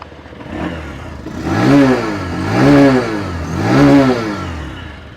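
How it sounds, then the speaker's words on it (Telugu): A Bajaj Platina 110 motorcycle engine revs three times in a steady rhythm, each throttle blip rising and falling in a throaty exhaust note over a low idle. "ఎగ్జాస్ట్ నోట్ అయితే ఒకసారి వినిపిస్తాను మీకు"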